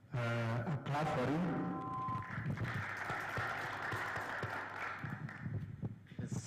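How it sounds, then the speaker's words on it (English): Audience applause at a research dissemination forum, a sustained burst of clapping from a seated crowd that stays fairly loud throughout, with some tonal sound at the start. "A clap for"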